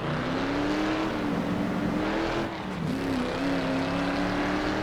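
A 1966 Shelby Mustang GT350R on the 1960s Marlboro race track, heard from on board: a loud, steady engine drone whose pitch rises and falls through the gears, with a brief dip as the driver lifts and then accelerates again.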